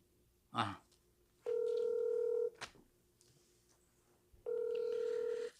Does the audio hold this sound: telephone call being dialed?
yes